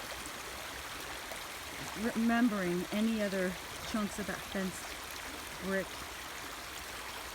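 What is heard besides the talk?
river water flowing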